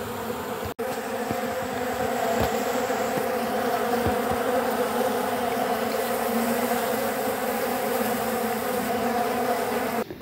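Bees swarming around a hive on a sinking platform amid fighting, a dense, steady buzzing drone that fills the whole stretch close up, with a few sharp clicks and taps.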